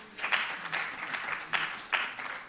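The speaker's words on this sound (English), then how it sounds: "Please give him a round of applause" Steady applause from a crowd, a dense patter of clapping with a few sharper claps standing out, no voices on top.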